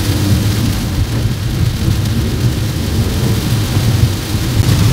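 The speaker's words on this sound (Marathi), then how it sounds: "आता आहे ना मुसळधार पाऊस परत सुरू झालेला आहे" Heavy rain with rumbling thunder during a drive on the NH-66 Mumbai-Goa highway near Mahad, a steady dense downpour roar with low booming rolls filling the whole stretch, no voices.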